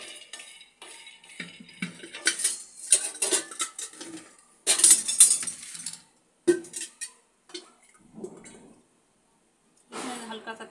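Peanuts dry-roasting on a tava, stirred with a utensil, give scraping, rattling clatter in intermittent bursts with short pauses, and a voice comes in at times.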